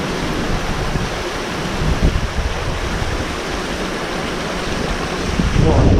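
Mallyan Spout waterfall near Goathland rushes in a steady, dense roar of falling water, mixed with wind noise on the microphone.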